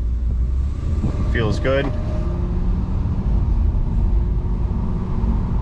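A VW Beetle with a 2.5-litre five-cylinder engine, with lean-condition and mass-airflow fault codes, drives along at a steady engine drone and road rumble heard from inside the car while someone speaks briefly.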